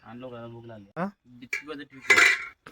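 A plate clinks against other dishes as it is set down for a crab curry meal, one short bright knock after quiet talk.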